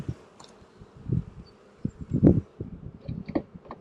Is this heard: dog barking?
no